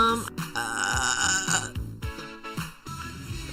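A big, drawn-out burp from someone sounds close and loud over a steady musical backing, with a couple of shorter gulps and a pause partway through.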